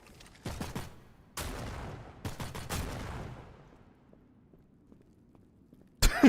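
Shotgun blasts in the video game Postal 4, several sharp loud reports in quick succession with decaying tails and quiet gaps, ending on one more abrupt shot.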